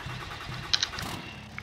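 A truck engine in the Farming Simulator 22 game turns over and settles into a steady low rumble, with a couple of brief sharp clicks partway through and no talking over it.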